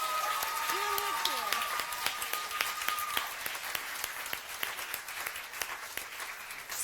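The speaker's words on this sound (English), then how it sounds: "Let's give these girls a good hand." Applause for junior cheerleaders fills a school sports awards ceremony, many hands clapping steadily across the room while an announcer's amplified voice briefly speaks at the start.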